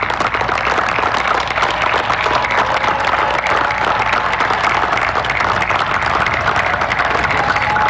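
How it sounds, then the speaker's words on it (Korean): Thick, sustained applause from a large crowd at a cadet ceremony, as the gathering claps for parents watching the broadcast; loud and continuous with no break. "텔레비전으로 중계를 보고 계시는 부모님들께 박수 쳐주세요 하고 박수치게 했습니다"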